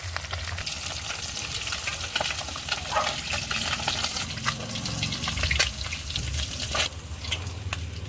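Pabda fish frying in mustard oil in a pan, a close steady bubbling sizzle with scattered crackles and a few clinks as the pieces are turned.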